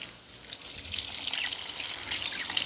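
Water gushes steadily from a tap or pipe, a close, continuous splashing hiss with no voices over it.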